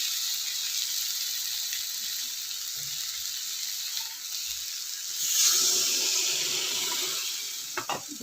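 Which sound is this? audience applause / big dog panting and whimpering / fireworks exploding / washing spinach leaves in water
washing spinach leaves in water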